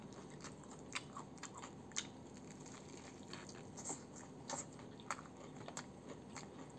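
Crunchy chewing and biting of Indonesian crushed fried chicken (ayam geprek) close to the mouth, with crisp cracks every second or so over a low background hum.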